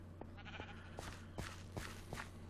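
A Minecraft cow stuck up in a tree gives a string of short, nasal, bleating moos, about five evenly spaced calls over a steady low game hum.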